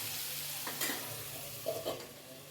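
A pan of dry fish being stirred and turned while it fries for a dry fish curry, with a steady background sizzle broken by a few short scraping stirs.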